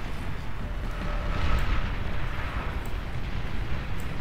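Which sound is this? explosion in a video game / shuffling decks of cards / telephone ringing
explosion in a video game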